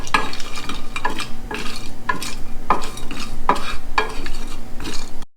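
Whole spices, including cinnamon, toasted and stirred in a dry pan for pho: loud, rhythmic scraping strokes roughly once a second over a faint sizzle, close up with no talking.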